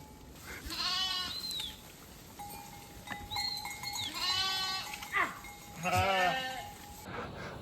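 Sheep and lambs bleat as a large herd comes down a mountain path on the Annapurna Base Camp trek, with several wavering cries in a row from close by against a quiet outdoor background.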